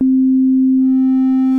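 A wavetable synthesizer device plays a pure, steady sine-wave tone that holds one pitch without a break, with faint overtones creeping in toward the end.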